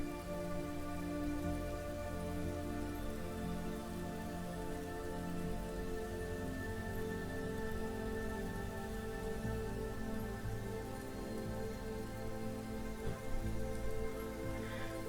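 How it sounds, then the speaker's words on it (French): Steady, dense storm rain pours without a break, a constant wash of drops spread evenly throughout with no thunder. "sentez la tempête devenir encore plus puissante et le vent souffler de plus en plus fort"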